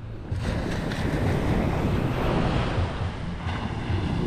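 Waves wash onto a clean seashore, a steady loud broadband roar of surf with wind buffeting the microphone throughout, no voices.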